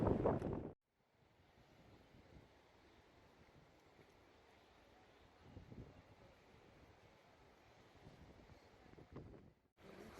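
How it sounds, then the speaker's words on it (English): Gusty wind blowing across an open outdoor spot on a long coastal walk, a steady roaring buffet against the microphone with swells of stronger gusts, with no voices. "It's pretty windy out here"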